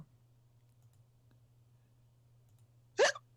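A voice imitates a single hiccup during a tabletop Dungeons & Dragons session, one sudden loud gulp after several seconds of near-quiet with only a low steady hum.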